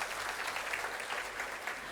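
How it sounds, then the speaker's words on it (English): An audience at a keynote event applauding, a steady even wash of many hands clapping for two seconds, with no talk. "Ladies and gentlemen, let's give a good round of applause to our"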